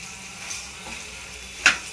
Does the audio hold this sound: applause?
no